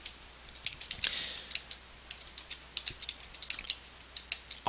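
Keys clatter on a computer keyboard in quick, irregular bursts of close clicks with short pauses, quiet room behind.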